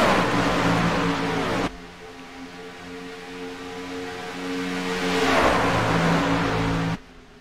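Race truck engines in the iRacing Truck Series at Daytona, with a loud roar as trucks pass at the start and end and a steady droning hum of engines in the draft between them; no voices.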